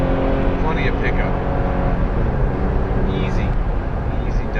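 A Toyota Tacoma TRD Sport pickup truck accelerates from inside the cab, its engine a steady loud drone with road noise underneath. Someone speaks briefly over it.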